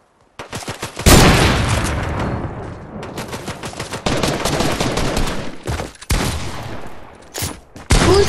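Bursts of rapid gunfire from a Fortnite match ring out loud and close, with sharp repeated volleys and short pauses between several separate rounds of shooting.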